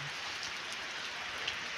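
Steady rain falls in a light, even hiss of drops hitting the ground, with no pauses and no voices.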